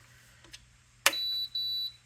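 A click, then two high electronic beeps in quick succession, the first longer, the second after a brief gap, as a WeR Makers Thermal Cinch device is switched on in a quiet room.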